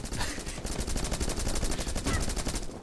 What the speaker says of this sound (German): Jetzt denk dran zu schießen, wenn wir rüberlaufen.